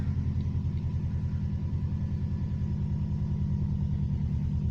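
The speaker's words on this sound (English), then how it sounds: "the engine's still completely cold, so I'm not going to rev it up or anything like that" A cold Subaru Impreza GC8 2.0 turbo idles steadily on its own, a low, even, pulsing engine rumble close by with no revving.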